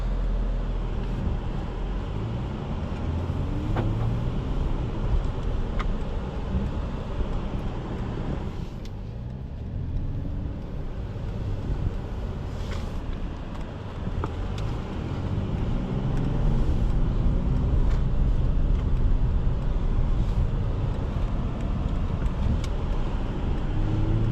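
A 2023 Mercedes-AMG CLS 53 engine hums steadily while driving, with road and tire noise throughout and a brief swell as the engine revs louder toward the end.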